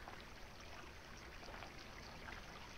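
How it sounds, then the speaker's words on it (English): A river flows in the game Ether One, a soft steady rush of water with no pauses, faint and continuous. "I love the sound of the river."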